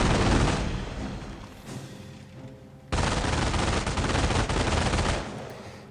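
Machine gun fire in the mobile game Company of Heroes rattles in dense sustained bursts, with a brief lull before a second louder volley of rapid crackling shots.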